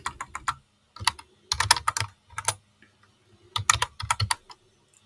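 Fast typing on a computer keyboard while entering code, with quick clusters of crisp key clicks separated by short pauses, close and clear with no voice.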